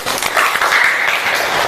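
Classroom applause from pupils during a teacher's lesson, a steady burst of clapping lasting under two seconds with no talking over it.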